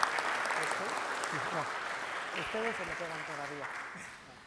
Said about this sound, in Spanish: Demos un fuerte aplauso para todos los galardonados del tercer bloque.